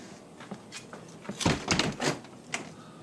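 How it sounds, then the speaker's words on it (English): A repaired white uPVC door with a fixed dropped hinge swings shut, giving a cluster of close, moderately loud knocks and a latch clunk, followed by a brief lighter click. "just close the door"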